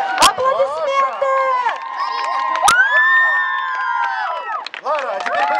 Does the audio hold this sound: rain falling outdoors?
no